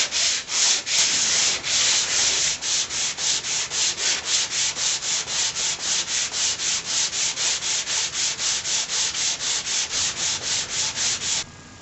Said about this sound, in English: So the 8 planks have now been sanded with 80 and then 120 grit sandpaper